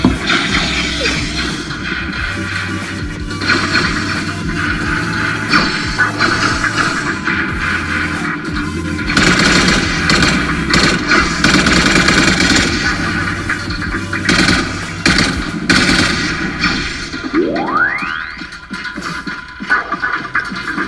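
Rapid gunfire from the shadow gun in a mobile shooter game, a dense, loud stream of bursts and bangs running continuously with game effects layered in.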